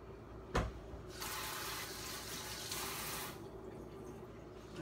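A kitchen tap is turned on for washing hands, and water runs in a steady, moderately close hiss into the sink for a couple of seconds after a brief knock, then fades as it shuts off.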